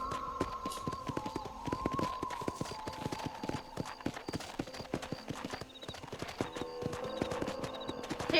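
Horse hooves clip-clopping in Red Dead Redemption, a steady close rhythm of sharp hoof taps, with a soft whinny and low background music, no talk.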